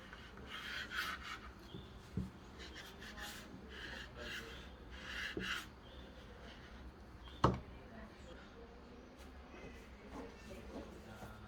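Knife slicing through two stacked layers of homemade erişte noodle dough on a board, soft repeated rubbing cuts with a sharper knock near the end, faint and close.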